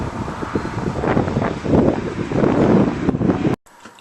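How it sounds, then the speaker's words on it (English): Strong wind gusts roar and buffet outside a window in Chatham, Ontario, rising and falling in loud, rushing waves with rustling, before cutting off abruptly near the end. "it is windy today in Chatham"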